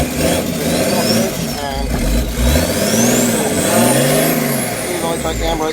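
A Peugeot 309 engine revs loudly and continuously as the car pulls away in first gear, its pitch rising and falling through several throttle swells, with someone talking over it.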